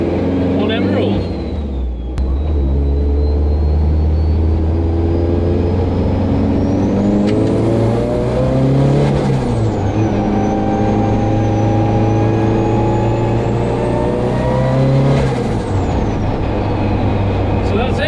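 Emerald K6 motorhome driving on the road, a steady low engine drone with tyre and road rumble, rising and falling with gear changes, under ongoing talk.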